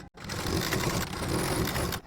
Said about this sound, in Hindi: तो इसी के ऊपर अब हम लोग सिलाई लगा देंगे।